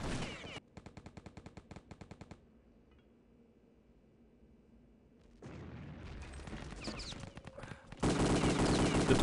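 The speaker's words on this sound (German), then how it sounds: "Trifft hier nur Razor, weil er gegen den Holzbalken schießt und damit der Schuss abgefangen wird." Gunfire in Return to Castle Wolfenstein during a 6on6 match on the Ice map: a rapid machine-gun burst, a quiet lull, then dense, loud overlapping shots and blasts building to a heavy barrage.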